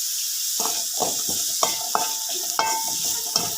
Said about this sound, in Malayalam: ഉപ്പ് ചേർത്ത് ഈ സവാളയൊക്കെ ഒന്ന് വഴണ്ട് വരുന്നതിലേക്കിട്ട് നമുക്ക് കുറച്ച് നേരം ഒന്ന് അടച്ചു വെച്ച് വെയിറ്റ് ചെയ്യാം.